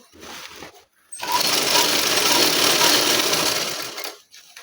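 A sewing machine stitches the open mouth of a sack stuffed with straw to close a boy's mattress, running loud and steady for about three seconds after a brief pause, with low household sounds before and after.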